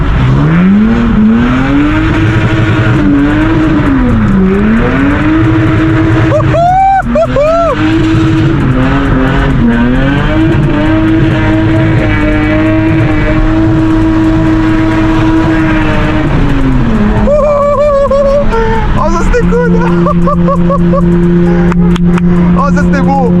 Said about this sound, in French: Un peu du street drifting dès le matin, ça serait cool.